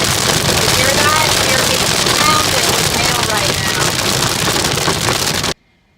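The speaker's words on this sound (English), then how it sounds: "We're getting pounded with hail right now." Dense, loud drumming of hail hammering on a car roof during a thunderstorm, a continuous roar that cuts off abruptly near the end.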